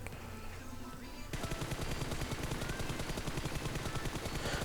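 Groza assault rifle firing in PUBG Mobile, a quiet lead-in giving way to a long, rapid full-auto burst of dense, evenly spaced shots that stays loud to the end.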